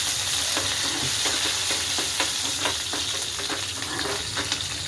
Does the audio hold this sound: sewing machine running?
no